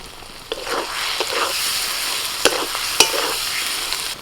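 Egg curry masala fries in a pan as kasuri methi is scattered in, making a close, steady sizzle with a few sharp utensil taps and stirring scrapes, no talking.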